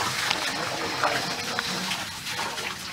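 A motor pump in an automatic pumpset with a humidity sensor pumps water, giving a steady rushing, gushing flow that fills the whole stretch at moderate loudness.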